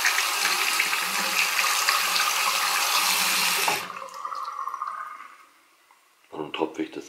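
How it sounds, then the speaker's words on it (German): Tap water runs steadily into a sink during tooth rinsing, a loud broadband rush lasting several seconds, then cutting off abruptly and giving way to quieter drips and small handling clicks. "Zähnchen gespült."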